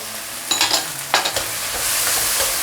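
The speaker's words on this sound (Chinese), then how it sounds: "好，大火给它炒一下" Chili peppers and fresh purple ginger shreds stir-fried over high heat in a wok with chili bean paste, two sharp scraping stirs cutting through a steady, rising sizzle of hot oil, close and loud.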